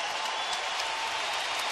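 A hockey arena crowd at a Toronto Maple Leafs versus Los Angeles Kings game roars and cheers in a dense, steady wall of noise after a goalie's save.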